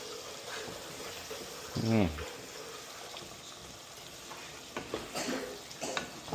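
Beef sizzles in hot oil as it is stirred and sautéed in a home kitchen pan, a continuous frying hiss broken by scraping stirs near the end, with a brief voice heard partway through.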